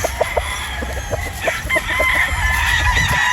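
A straight-comb Sweater Boston gamecock crows loudly and close, a drawn-out strained call rising after a few short clucks and scuffles, with other fowl faintly around.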